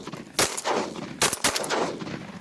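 Shotguns blast at ducks during an Oklahoma bird hunt: three sharp, loud reports, one alone and then two quick ones close together, each with a short outdoor echo.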